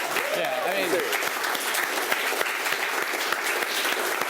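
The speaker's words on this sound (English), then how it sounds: "Let's hear a round of applause for that" A room full of people at an informal get-together claps in sustained, even applause, with a brief voice sounding at the start.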